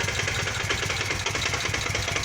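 A Kawasaki VN 800 Vulcan motorcycle engine idles up close with a steady, loud, pulsing chug and a faint irregular ticking noise running through it, no talking.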